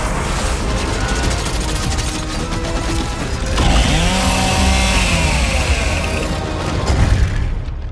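Chainsaw Lancer rifle from Gears of War: E-Day revving its bayonet chainsaw, a loud grinding mechanical whir amid game combat noise, surging in the middle and again near the end.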